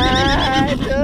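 A horse lets out a loud, close whinny that fills the whole brief moment, with a wavering, strained pitch.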